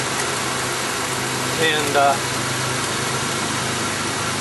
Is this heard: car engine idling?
yes